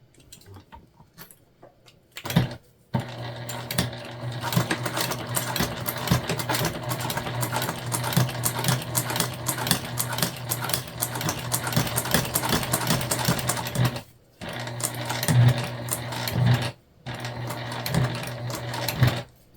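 Sewing machine stitching a lunch bag's zipper gusset, a loud, close, rapid mechanical whir running in long bursts with brief stops between, no voices.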